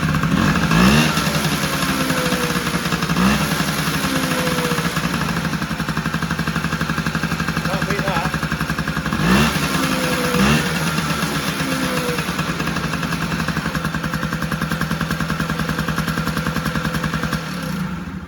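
A 1982 Honda Melody scooter with fuel system problems starts up and runs, its small engine holding a steady buzzing idle with a few brief blips of revving, close and loud throughout.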